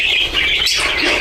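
Birds chirp and squawk steadily at a resort in Wayanad, a dense, bright chorus of overlapping calls that carries on throughout with no pause.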